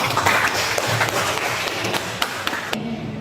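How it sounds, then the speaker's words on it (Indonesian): A university physics classroom breaks into applause, many hands clapping in a quick, irregular patter nearby, then stopping abruptly near the end. "Beri tepuk tangan aja."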